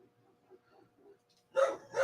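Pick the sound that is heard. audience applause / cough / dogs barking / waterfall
dogs barking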